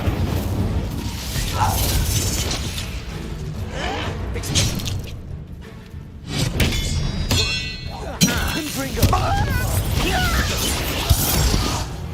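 Hogwarts Legacy combat with the Incendio fire spell, bursts of whooshing flame and crackle mixed with thuds, crashes and clanging game effects, while a voice speaks over the action.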